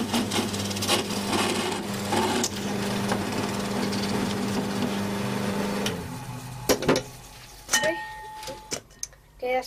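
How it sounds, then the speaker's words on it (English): Wood lathe turning as a tool parts off the body of a small wooden box, a steady motor hum with scraping cut noise for about six seconds, then the machine winding down amid knocks and handling sounds. "the main body of the box, which I'm going to part off now"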